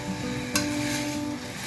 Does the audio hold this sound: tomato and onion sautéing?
yes